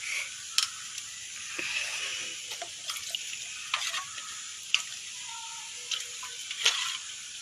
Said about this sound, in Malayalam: പാല് തിളച്ച് വന്നിട്ടുണ്ട്